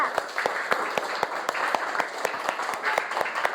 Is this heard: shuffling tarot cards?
no